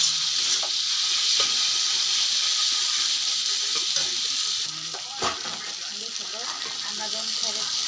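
Eggs frying with salt in a kadai (wok) while being stirred, a steady bright sizzle and hiss close by, with scraping stirs breaking in and the sizzle easing slightly partway through.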